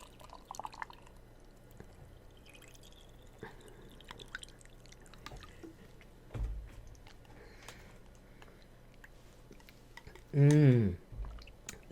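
Water pours into a glass with a short, close, bubbling gurgle near the end, after quiet drips and small clicks, the pour brief and loud against an otherwise hushed background.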